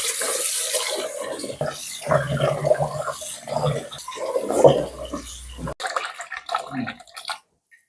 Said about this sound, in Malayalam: അത് ഞാൻ കഴുകിയിട്ട് അരി കഴുകി ആദ്യം വെള്ളത്തിൽ ഇട്ടു